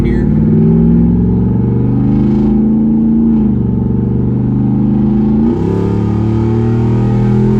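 A straight-piped Jeep Wrangler Rubicon 392 roars loudly as it accelerates onto an interstate on-ramp, its deep exhaust note climbing steadily with two brief dips where it shifts gears. Wind noise runs underneath.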